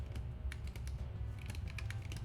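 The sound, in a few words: typing on a computer keyboard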